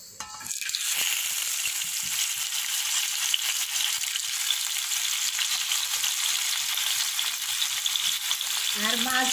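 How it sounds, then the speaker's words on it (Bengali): Fish frying in hot oil in a pan: a loud, continuous crackling sizzle that starts abruptly and holds steady for several seconds, close up and with no talking. "এখন আমি এই তেলে হালকা করে মাছগুলো ভেজে নেব।"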